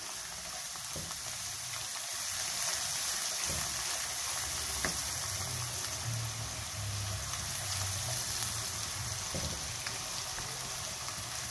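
Spices and ingredients for turnip sabzi are mixed and sautéed in a pan, making a constant close sizzle and hiss with occasional scraping stirs and no talking.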